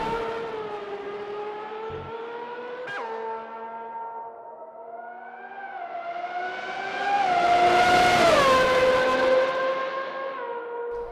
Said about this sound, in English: I'll just let you listen to the sound of the car.